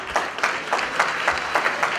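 An audience claps for a chairman at a Hispanic community awards event, a close, lively burst of applause with distinct rhythmic clapping throughout.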